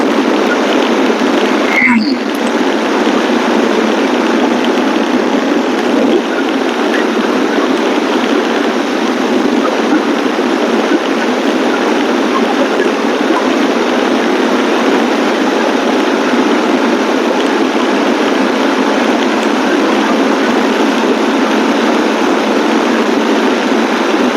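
Vehicle engine on a fast ride in the rain, with a helmet on, from Polsonda toward Sagardighi: a loud, unbroken roaring rush throughout, with a single sharp knock near the start.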